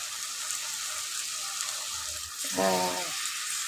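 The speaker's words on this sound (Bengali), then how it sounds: "এই অবস্থায় আমি একটু জল তুলে দিই।" Water poured into a pan of fish curry, a steady frying hiss that swells into a brief bubbling gush of sizzle near the end, with no voice over it.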